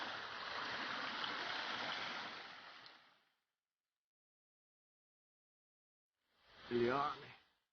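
A cold mountain waterfall stream rushes as broadband water noise for about three seconds, then the clip drops to near silence before a short burst of speech near the end.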